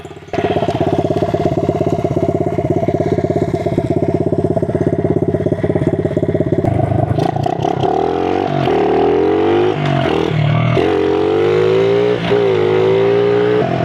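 A 1997 Honda XR70R pit bike with a bean can exhaust modification idles loudly and steadily, then revs up and down in several sharp bursts close to the microphone, with no talk over it.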